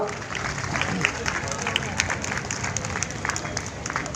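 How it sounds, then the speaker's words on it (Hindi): An audience at a district child welfare council cultural program applauds to welcome the SDM. The clapping is moderate and steady, and the room's crowd murmur runs beneath it throughout. "तमाम लोग यहाँ बैठे हुए हैं तालियों से स्वागत करें माननीय एसडीएम साहब का"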